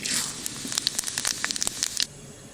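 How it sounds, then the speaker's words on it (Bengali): Panch phoron spices go into hot mustard-oil left from frying rohu fish, a close sizzle crackling with sharp pops and spits before suddenly dying down. "মাছ ভাজা তেলের মধ্যে ফোড়ন দেব পাঁচ ফোড়ন"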